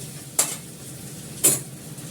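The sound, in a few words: meat being sautéed in oil in a pan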